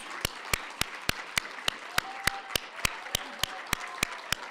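Applause for graduating students at a school awards celebration, with sharp, evenly spaced loud claps, roughly three per second, over a softer bed of scattered clapping and faint crowd sounds.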